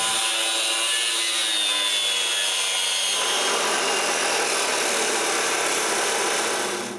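A power saw cuts metal supports for a gate, making a loud, steady, harsh grinding whine that changes pitch partway through and keeps going close up without a break.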